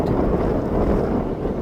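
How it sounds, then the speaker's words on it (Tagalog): Strong outdoor wind in South Australia roars and buffets the microphone in a steady, loud broadband rush with no break and no voices. "Masyadong malakas ang hangin dito guys."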